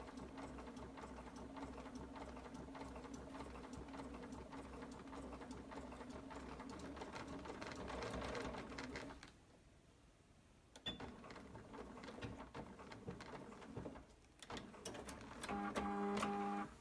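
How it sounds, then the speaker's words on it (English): A domestic sewing machine stitches leather at a slow, steady pace, its motor whirring with a rhythmic needle chatter, stopping briefly midway and then resuming, close and clear. "Have to go nice and slow with leather to make sure it doesn't skip the stitches."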